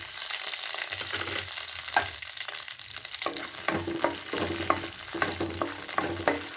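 Garlic sizzles and fries steadily in hot oil in a pan for mango thokku rice, with scattered stirring clicks of a spoon against the pan over the constant crackle.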